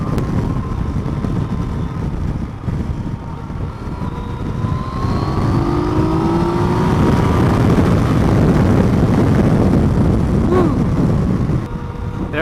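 A 2015 Yamaha FJ-09 Tracer motorcycle engine drones steadily while riding, its pitch rising and shifting through gears under loud, constant wind rush, with no one talking.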